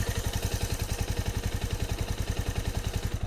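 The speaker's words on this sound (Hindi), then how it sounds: "कर लेते हैं बाइक को स्टार्ट, चाबी कर लेते हैं ऑन, सुनते हैं इसकी आवाज़" A Bajaj Avenger 220 Cruise motorcycle engine idles alone close up, giving a fast, even thumping pulse with a mechanical clatter on top, steady and unbroken throughout.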